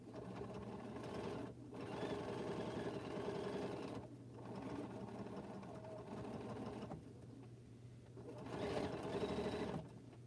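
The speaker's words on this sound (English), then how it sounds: "I've just sewed darts, and now I'm sewing my bag together" A sewing machine runs steadily while sewing a bag together, giving a continuous, fairly quiet whirring hum with brief dips where the stitching pauses.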